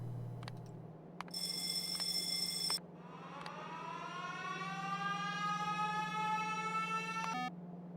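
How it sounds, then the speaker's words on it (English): A chiming information beep alert in the Factorio game, a sustained bright electronic tone with rising layered harmonics, heard alone over a low steady game hum. "Information beep."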